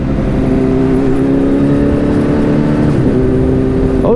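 A car's exhaust drones loudly and steadily inside a Los Angeles tunnel, its engine note holding even and then dipping and picking up again near the end, close and reverberant with no talk.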